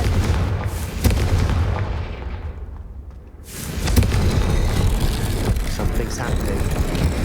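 A Confringo fire spell in Hogwarts Legacy sets off a heavy booming blast, then a rushing roar that drops to a lull before a second loud, rumbling explosion swells up and sustains.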